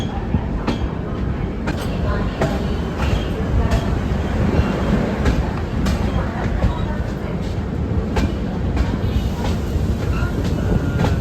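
A passenger express train rolls on after leaving Gudur junction, its loud constant rumble heard from inside a coach, with sharp wheel clicks over the rail joints coming at irregular intervals and nobody talking.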